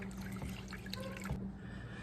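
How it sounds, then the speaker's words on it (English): Milk poured slowly into a ham and potato casserole makes a soft, steady liquid trickle and splash. It runs continuously for a couple of seconds, quiet and close, with no talking. "we're going to slowly pour in 2 cups of milk and work this in together."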